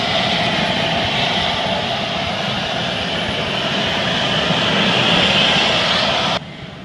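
A Yak-130 scale model jet aircraft's engine running at close range, a loud, steady roar with a thin high whine above it. It holds an even pitch for about six seconds before cutting off abruptly.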